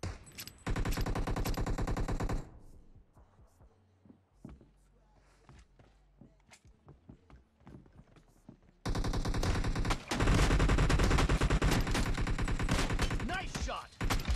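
Automatic gunfire in PUBG Mobile during a deathmatch: dense sustained bursts at the start and again near the end, loud and continuous, with quieter footsteps and scattered single shots in between.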